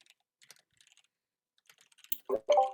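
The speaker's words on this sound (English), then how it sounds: "you get to see how terrible I am at typing now" Typing on a computer keyboard, scattered faint key clicks in short bursts at a slow, uneven pace, with a louder burst near the end.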